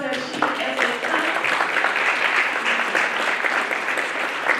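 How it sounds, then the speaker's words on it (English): Sustained audience applause fills a hall at a college hunger summit, a dense steady wash of many hands clapping at moderate volume with a few voices faintly mixed in throughout. "Let's give them an applause as they come."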